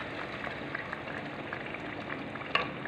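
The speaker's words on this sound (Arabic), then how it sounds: "دوك نخليها هكا تزيد تقلى شوية، في تقلى الدجاج في التوابل مليح" Chicken pieces fry with spices in a pan, giving a steady, close sizzle and crackle that holds an even level throughout, with one brief louder pop near the end and no talking.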